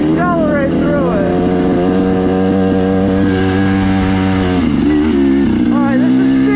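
A motorcycle with a Scalvini pipe and RK Tek piston and head climbs a steep hill, its engine loud and close, rising in pitch while accelerating, with a dip and renewed revving near the end.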